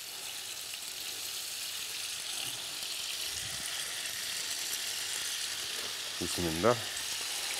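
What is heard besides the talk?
meat searing in hot oil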